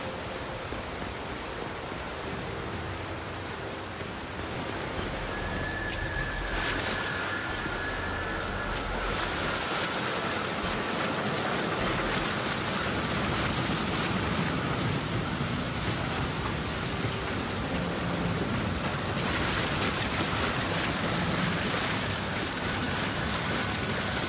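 Steady, dense rushing roar of a waterfall in the Gears 5 Hivebusters video game, continuous broadband water noise that stays loud and even throughout with no voices.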